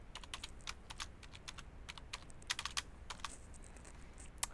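Rapid keystrokes on a computer keyboard as a username and password are entered, a close, steady burst of clicky taps with brief pauses, alone with no talking.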